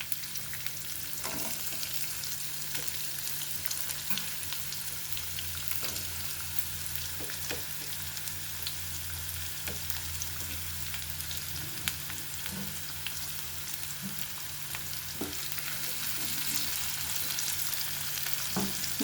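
Curry leaves and onion frying in hot oil, a continuous close sizzle with faint crackles and occasional stirring scrapes, steady and unaccompanied by talk.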